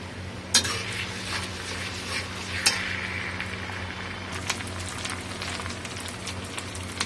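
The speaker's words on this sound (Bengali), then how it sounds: "আদা রসুন বাটা মিক্স করে দিয়ে দিচ্ছি" Country chicken with ginger-garlic paste and browned onions sizzles in a pan while being stirred, a moderate steady crackle broken by a couple of sharp utensil clinks against the pot.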